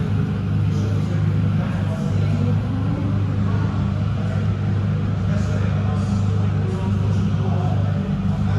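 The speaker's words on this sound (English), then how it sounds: "that's just engine noise here in the background" A constant low engine hum and rumble drones steadily throughout, like a car idling or cruising nearby at a cars and coffee meet, with no distinct changes.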